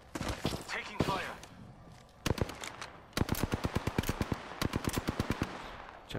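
Gunfire in the video game Apex Legends, a few scattered shots followed by long rapid automatic bursts of sharp, evenly spaced reports at close range, with a voice heard early on.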